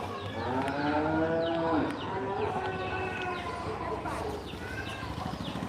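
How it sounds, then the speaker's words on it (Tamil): Several cows moo loudly and close by in drawn-out calls, with bleating goats and faint bird chirps in the background. "அந்த பக்கம் மாடு கத்துது இந்த பக்கம் ஆடு கத்துது"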